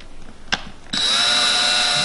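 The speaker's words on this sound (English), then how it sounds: "I'll take my little drill motor here" A sharp click, then an electric drill driving a screw whirs up and runs steadily at high speed, close and loud.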